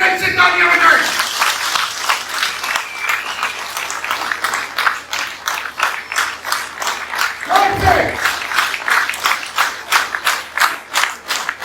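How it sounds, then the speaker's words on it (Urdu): Audience at a PTI youth convention rally claps for the young people, a steady ripple of applause running through the whole stretch with a brief louder surge near the end. "یوتھ کے لیے دل سے تالیاں بجائیں"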